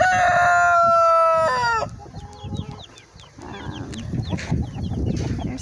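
A hen clucks repeatedly amid other chicken sounds, with a loud rooster crow at the start, close by and busy.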